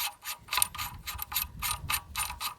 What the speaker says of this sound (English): This is the other nut to replace the big one on here. So this one just goes on there like that.